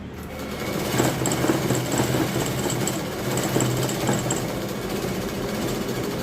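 A sewing machine stitches small fabric scraps in a continuous, fast mechanical whir with a rapid needle rhythm. It runs steadily and close up for the whole stretch, with no talking.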